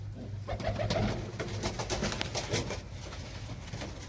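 Pigeons coo repeatedly nearby, soft throaty calls overlapping in an uneven rhythm against light background noise.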